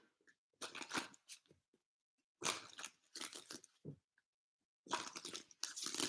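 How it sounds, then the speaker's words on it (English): Tarot cards shuffled during a live reading, heard as several bursts of crisp riffling and snapping card noise separated by short pauses, close and fairly loud with no talking. "This feels like it needs a little bit more shuffling."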